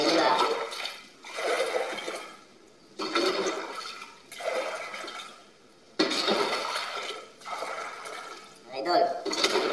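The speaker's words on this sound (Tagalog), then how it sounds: "yung makina ng water pump para makahigop mo siya ng tubig" A water pump sucks the last water off a dirty pool floor, giving repeated gurgling, slurping surges that rise and break off every second or two.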